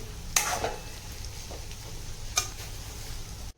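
Egg bhurji frying in a pan, a low continuous sizzle with two sharp bright ticks of a spatula against the pan, close and fairly quiet.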